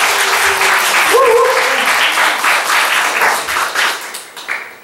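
A church congregation applauds steadily with dense clapping, loud and close, tapering off toward the end with a voice faintly underneath.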